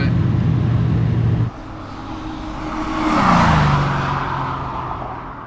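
A BMW E21 fitted with a 5.8L Chevy V8 pulls away hard, a loud deep engine drone that drops off abruptly, then swells into a rising roar before easing back.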